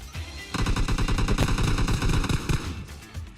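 M416 assault rifle in the video game PUBG Mobile firing a fast, loud automatic burst of rapid close shots lasting about two seconds, then a few trailing echoes.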